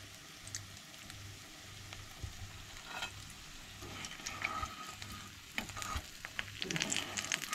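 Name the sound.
kingfish rava fry frying in a pan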